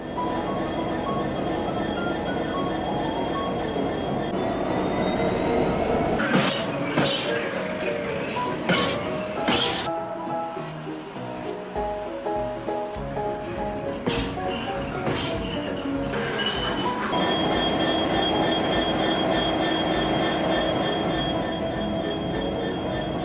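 A freight train rolls past with a continuous rumble and loud, high-pitched wheel squeal, joined by sharp metallic clanks and rhythmic clatter as the cars go by. The sound stays steady and fairly near throughout, with no voices over it.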